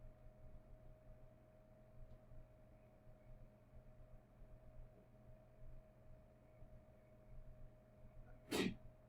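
A single loud sneeze bursts out near the end after a long stretch of quiet classroom hum.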